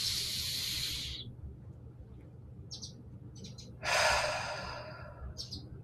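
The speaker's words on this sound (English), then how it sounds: "give yourself the gift of taking a few deep breaths" Slow, deep breathing exercise with a long airy exhale at the start, a pause with faint sniffs, then another loud close breath, intimate and unaccompanied by talk.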